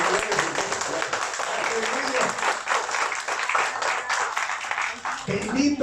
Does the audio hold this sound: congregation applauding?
yes